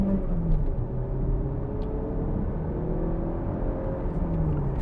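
A 2021 Mazda CX-30 with a 2-litre Skyactiv-X engine of 183 horsepower accelerates hard, giving a steady, fairly loud engine rumble and whir with slowly rising tones throughout, no talking.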